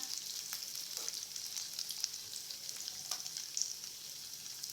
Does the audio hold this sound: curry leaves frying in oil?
yes